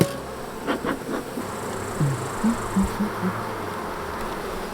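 Honeybees buzz around an open hive where a young bee is emerging, a steady insect hum with a few closer passes of individual bees flying by, fairly faint and without speech.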